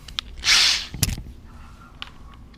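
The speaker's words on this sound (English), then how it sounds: "And then I'm just going to drill it." Electric drill boring with a 15/64 bit while making a homemade ice fishing tip-up: a single loud, steady whine lasting about half a second, followed by a short knock and faint clicks, with no talking.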